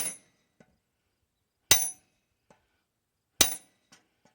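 Hammer whacking metal on an IH 120 mower, three sharp, ringing strikes spaced well apart with faint rebound taps between, close and clear in an otherwise quiet setting.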